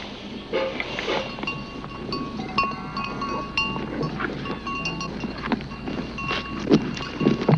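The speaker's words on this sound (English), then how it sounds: "So many cows, they're coming" Cattle on a New Vrindavan farm moving in, with busy layered animal sounds, clanking bells and rustling steady throughout at moderate level, no talk.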